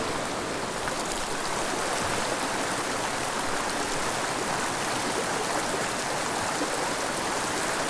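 A creek rushes steadily along with a dense, unbroken hiss of flowing water, close and loud throughout.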